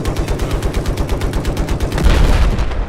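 Helicopter missiles firing in the video game Battlefield 4, heard as a loud, steady string of rapid, evenly spaced blasts that swells into a heavier roar near the end, with no talking.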